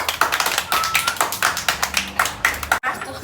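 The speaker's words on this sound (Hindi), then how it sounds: "ताली बजा दो।" Children clapping together inside a barber shop, a quick run of sharp, loud claps in a steady rhythm for about three seconds, broken only by a brief pause near the end.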